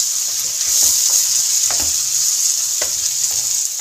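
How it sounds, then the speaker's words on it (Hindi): Finely chopped tomatoes hit frying mixed vegetables in a pan, setting off a loud, close, hissing sizzle that holds steady, with a few soft stirring scrapes and no speech. "अब हम इसमें डालेंगे टमाटर जो कि बारीक काट के हमने रखे हुए।"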